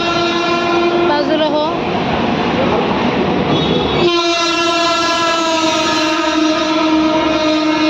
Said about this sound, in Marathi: एक ट्रेन आलेली आहे